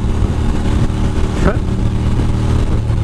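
A Ducati motorcycle engine drones loudly and steadily throughout while riding, with wind buffeting and a brief rising whine near the middle.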